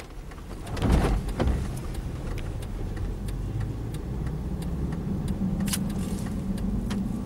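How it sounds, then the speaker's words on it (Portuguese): Volvo XC60 with an automatic gearbox, repaired after a transmission oil leak, on a road test drive: steady engine and road rumble throughout, with a louder surge near the start and faint clicks and ticks over the continuous drone. "O carro tá pronto pro teste de rodagem,"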